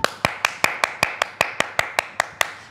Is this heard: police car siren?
no